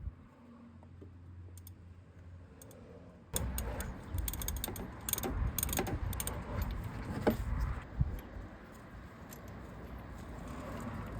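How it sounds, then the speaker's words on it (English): A ratchet with a 16mm deep socket loosens the old spark plug on a Vespa Sei Giorni 300 scooter, giving a close, loud run of rapid pawl clicks in bursts after a quiet start, with no talk. "get your socket on your ratchet and then try and get it in that little space to remove the old spark"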